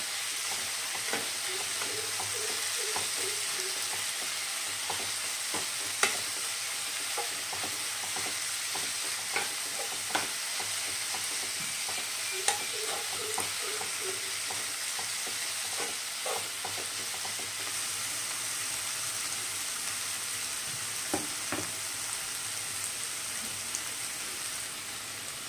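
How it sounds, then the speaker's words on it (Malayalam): Dried red chilies, green chilies and curry leaves frying in oil for a squid roast, a continuous soft sizzle broken by scattered clicks and scrapes of stirring, moderately quiet and close, no voices. "വറ്റൽമുളക് ഇട്ട് കൊടുക്കാം പിന്നെ കറിവേപ്പില ഇട്ട് കൊടുക്കാം കേട്ടോ മറ്റൊന്ന് ഇളക്കി കൊടുക്കാം"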